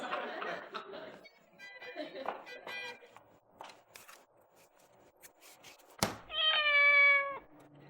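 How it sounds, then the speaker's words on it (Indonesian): A house cat gives one loud, drawn-out meow close by in a kitchen where meat is being cooked, after a stretch of quieter chatter and clatter. "Ini kucing kalau gua ngambil daging mesti tahu aja lu"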